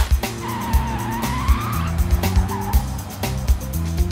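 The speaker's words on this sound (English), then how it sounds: "Cars that monster trucks like to crush." Monster trucks roar through a car-crushing run, with a steady engine drone, skidding squeals and repeated crunching thumps spaced through the stretch.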